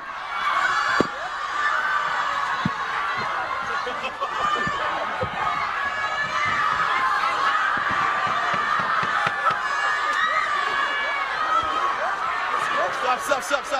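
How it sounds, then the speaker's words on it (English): A large crowd buzzes and chatters before the KSI vs Joe Weller boxing fight, with scattered laughs and shouts in a steady, loud din. It plays back from a recording while people talk over it. "you hear the crowd hyping this up"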